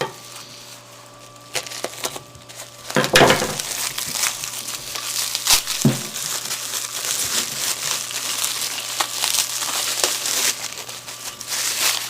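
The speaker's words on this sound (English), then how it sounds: "I tend to go overboard on the plastic wrap" Plastic wrap crinkling and crackling as it is pulled off a laser engraver riser during unboxing, with busy continuous rustling and a few louder crunchy bursts.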